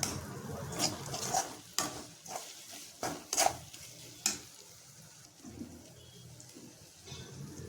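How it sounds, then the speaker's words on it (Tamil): Boiled mutton is sautéed with ginger garlic paste in a pan for Madurai mutton chukka. A soft sizzle sits under irregular scraping and clinking stirring strokes, close and fairly quiet, with no speech. "அதுக்கப்புறம் நம்ம வேக வச்ச கறியும் போட்டு நல்லா வதக்கிடணும்"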